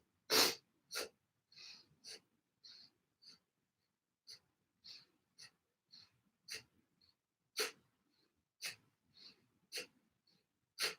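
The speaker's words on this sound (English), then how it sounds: "A strong breath through the nose." Strong, forceful breaths through the nose during a Kundalini yoga and meditation class, sharp sniff-like bursts repeating in an irregular rhythm over about eleven seconds, close and clear against near silence.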